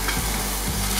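Onion frying and sizzling in a pan while being stirred for a choucroute garnie, a steady loud hiss with a couple of soft scraping strokes, no voices.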